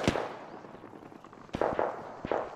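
Sharp gunshot cracks ring out in a World War II shooter battle at Salerno: one early report, then two louder separate shots about a second apart over a rumbling, noisy backdrop.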